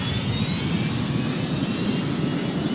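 Airliner jet engines roar at takeoff in a flight simulator game, a dense, steady, loud rush with a thin rising whine held throughout and no voices.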